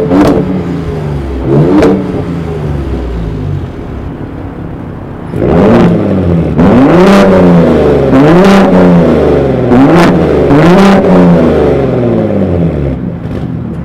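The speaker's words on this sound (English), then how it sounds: "which I'll show you the exhaust clip right now" A third-generation Ford F-150 Raptor with an equal-length trombone exhaust, revved in a string of loud, close blips that rise and fall, with a steady idle rumble between them and no talk.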